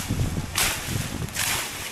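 Gusty wind before an approaching typhoon buffets the microphone in a banana grove, roaring in two strong surges.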